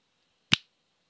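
A single crisp finger snap, close and sharp, with a brief bright ring, in an otherwise near-silent room.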